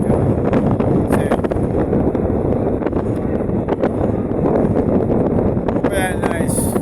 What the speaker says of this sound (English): Up on the beach, right, you know, the breeze are blowing heavy over there.